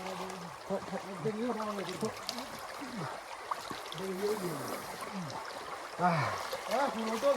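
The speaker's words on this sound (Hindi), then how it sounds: "ये देखो पानी बह रहा है ठंडी ठंडी से पानी" A cool mountain stream flows steadily as a broad, constant wash of water, heard under ongoing talk from people nearby.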